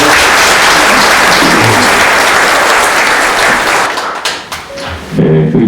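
Loud, dense applause from a large audience in a National Assembly Library auditorium fills the space, steady for several seconds before thinning out into scattered claps near the end.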